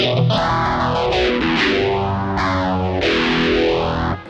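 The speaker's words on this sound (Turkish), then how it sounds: "Phaser da duyduğunuz gibi bayağı etkili." Electric guitar chords played through a strong phaser on a Joyo DC-15S rechargeable guitar amp, the tone sweeping up and down in slow, repeating whooshing cycles.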